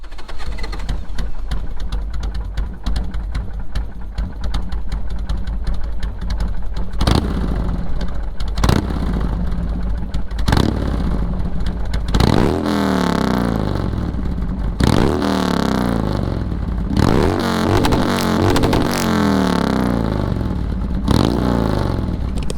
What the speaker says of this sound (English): So in case you're wondering what a Danmoto Highwayman for a rigid mount Sportster sounds like. That's what it sounds like.